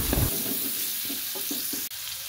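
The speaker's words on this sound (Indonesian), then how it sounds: "Sisa minyak kita gunakan untuk menggoreng bawang merah dan bawang putih." Shallots, garlic and chili sizzle in hot leftover oil with a steady frying hiss, broken by a few soft stirring scrapes in the pan.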